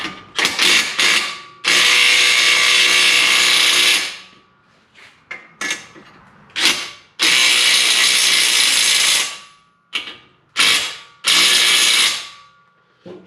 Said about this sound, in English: let's go ahead and put the nuts on them. We'll run them on.